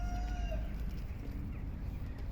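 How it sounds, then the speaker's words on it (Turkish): Soft, scattered clucking from a flock of chickens on a free-range chicken farm, with a faint high note at the start and a low steady hum underneath. "Arkadaşlar burası tavuk çiftliği."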